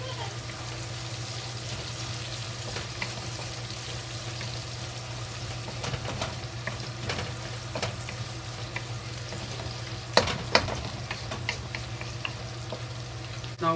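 Carrots and water chestnut stir-fry in a hot pan for Chinese fried rice with bacon, giving a steady close sizzle with scattered scraping clinks of the utensil against the pan.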